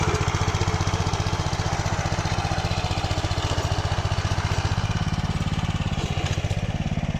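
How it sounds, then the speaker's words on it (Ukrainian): A walk-behind tractor engine chugs steadily while ploughing up early potatoes in a field, a loud, even, rapid single-cylinder putter that runs close and unbroken throughout. "мотоплугом, мотоблоком віорює"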